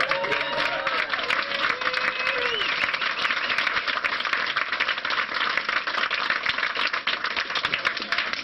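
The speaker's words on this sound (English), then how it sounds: "give him a round of applause." A Texas book-shop audience gives a steady round of applause, dense and even clapping from many hands that keeps going at a moderate level with no voices over it.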